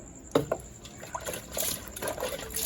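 Water splashes and trickles through a sieve while something is washed, with uneven bursts of pouring and dribbling at close range.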